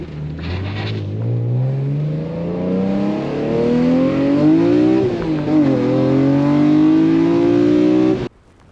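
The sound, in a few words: BMW E46 M3 engine with CSL airbox intake under throttle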